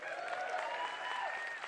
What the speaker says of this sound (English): you can applaud for Jimmy